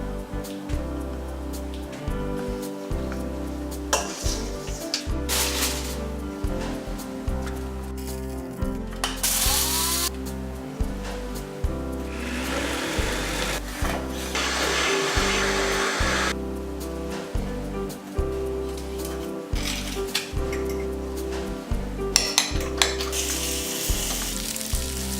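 Lamb loin chops sizzling on a grill, a steady dense crackle and hiss that swells and fades in bursts with a low rumbling bed underneath, close and continuous, no voices.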